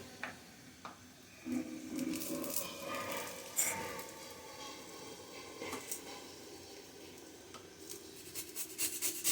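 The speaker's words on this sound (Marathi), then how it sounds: "गाजर थोडंसं किसून" Carrot grated by hand into a dish while preparing a moong dal recipe, a quiet uneven rasping and scraping in short bursts with faint clinks, fairly close but low in level, no talking.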